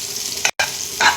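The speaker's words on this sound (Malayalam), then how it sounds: "ബീൻസ് നമുക്ക് ഈ സമയത്തൊന്ന് ഇളക്കി കൊടുക്കാം." Green beans thoran being stirred as it fries in a pan, a steady broadband sizzle with a couple of brief scraping stir strokes and a short gap of silence midway.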